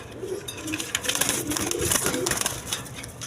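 Pigeons coo steadily on a pigeon farm, a soft overlapping chorus of throaty calls with scattered rustling and flutter, moderately close and continuous throughout.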